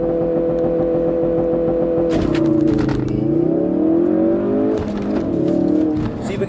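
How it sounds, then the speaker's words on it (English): A 2016 Ford Focus RS in track mode runs on a race track, its engine droning from inside the car with pitch rising and falling through shifts, punctuated by sharp raspy bursts and clatter. "this little valve in there opens up, giving you that extra rasp that you want to hear when a car is at full boil"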